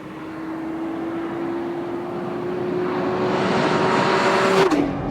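A 2014 Nissan GT-R sports car accelerating hard: a steady rising engine drone that grows louder and brighter over several seconds, then breaks off abruptly near the end as the pitch drops, heard from inside the car with no talk.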